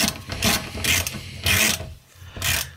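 A 27 mm deep socket on a ratchet loosens a Nissan Xterra ball joint in a few rough, grinding turns with short pauses between them, close up and with no talking.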